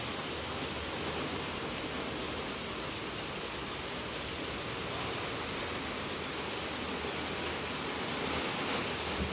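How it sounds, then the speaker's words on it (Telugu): Heavy wind-driven rain falls on a balcony in a continuous dense hiss. The steady roar fills the scene without pause. "ఇది గాలి వాన కదా"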